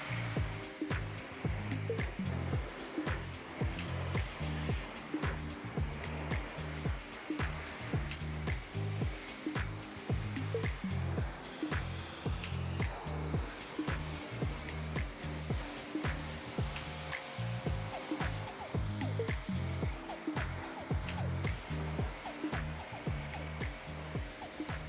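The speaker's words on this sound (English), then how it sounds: "First, we're going to start with a rinse and just try to get off as much of the dust as we can." Steady close water spray rinsing dust off a car's exterior, a continuous loud hiss with a pulsing, uneven flutter throughout and no talking.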